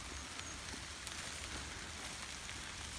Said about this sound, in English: it's definitely worth it to be out here in the rain